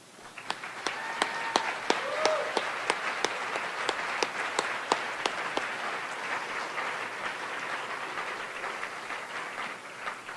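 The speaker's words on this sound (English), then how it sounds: "Huge round of applause for the inspiration they give us all." An audience at an arts awards ceremony applauds, a dense patter of many hands that stays steady for about ten seconds before slowly thinning, heard from a moderate distance in a large hall.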